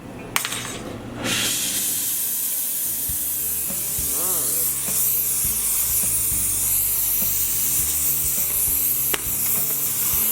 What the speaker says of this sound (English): We're going to heat it up to remove it.